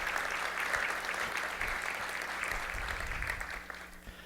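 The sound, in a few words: audience round of applause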